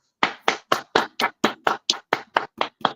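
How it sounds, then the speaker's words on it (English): A single person claps twelve sharp, evenly spaced times, close and clear, with no talk. "Clap for me."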